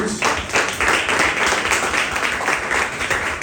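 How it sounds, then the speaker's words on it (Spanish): A church congregation gives a strong round of applause, dense and loud clapping that fills the room continuously with no speech over it. "den un fuerte aplauso a Jesús."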